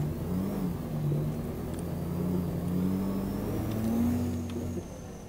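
Car engine running steadily in Euro Truck Simulator 2 (Fortuner vs Land Cruiser off-road competition), the overheated engine droning at a constant mid-low pitch with slight rises in revs, loud and continuous, no talk.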